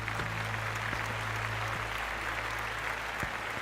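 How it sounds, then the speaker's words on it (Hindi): Audience applause at an award ceremony as an association president comes on stage to present an award, a steady wash of many hands clapping, moderately distant, with a low hum underneath. "आप सबकी भरपूर तालियों के साथ"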